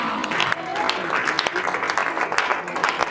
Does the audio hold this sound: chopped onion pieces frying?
no